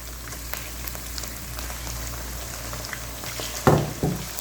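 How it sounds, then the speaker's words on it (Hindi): Chicken pieces fry in hot cooking oil with onions, giving a soft, steady crackling sizzle, then two louder clattering bursts near the end. "मैं अब चिकन को अच्छे तरीके से फ्राई करूँगी इसमें"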